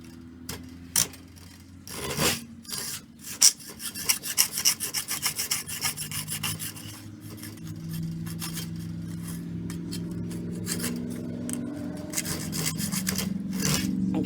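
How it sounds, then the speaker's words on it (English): Copper sheet is cut with a hand hacksaw in steady back-and-forth rasping strokes, tentative at first and then settling into a fast, even rhythm, close up with no talking. "Take your hacksaw and lay it just like that. And gently pull back, get it started."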